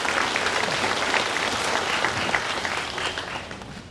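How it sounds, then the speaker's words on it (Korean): Warm applause from residents at a community budget debate forum, a dense, even roar of many clapping hands that stays steady throughout before easing slightly at the end. "뜨거운 박수 좀 부탁드리겠습니다"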